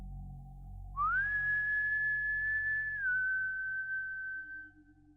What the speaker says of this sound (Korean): 선이는 희죽거리며 웃다가 갑자기 휘파람을 불면서 그 오빠랑 윤지 언니 주변을 빙빙 돌더라.